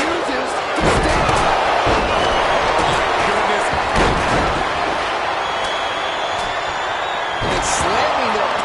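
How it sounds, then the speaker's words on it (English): A WWE wrestler slams an opponent's face into the canvas, with heavy thuds landing near the start, middle and end over a loud, constant arena crowd roar and ongoing commentary. "Slamming their opponent's face to the canvas."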